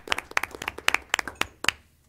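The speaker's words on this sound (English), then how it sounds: "Give him a round of applause." Sparse clapping from a small audience at a county commission meeting, a handful of distinct claps in an irregular rhythm that quickly fade to quiet.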